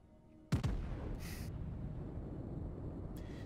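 Main guns of the warship USS Georgia firing in a naval video game: two sharp, loud blasts in quick succession, then a lingering low rumble. A faint hiss follows and there is no talk.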